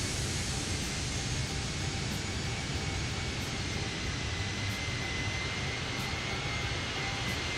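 Steady, loud jet engine roar from a Fenix A320 airliner taking off in Microsoft Flight Simulator, a continuous broadband rush with a faint high whine running through it, unchanged for the whole stretch.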